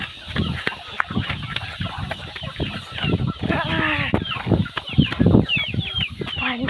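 Chickens cluck and squawk in a busy, overlapping chorus at close range, with a rooster among them, sounding nonstop on a farm. Brief human voices mix in at times.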